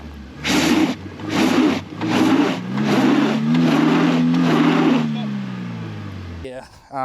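Tuk tuk engine revving hard during a tire burnout, a loud droning motor that rises and sags in pitch over several seconds, then cuts off abruptly.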